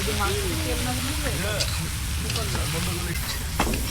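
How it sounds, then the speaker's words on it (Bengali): Food sizzling steadily in a pan at an outdoor picnic, with stirring scrapes and people talking over the constant frying hiss. "আগে ভালো করে ভেজে নিই তাহলে কিছু হবে না।"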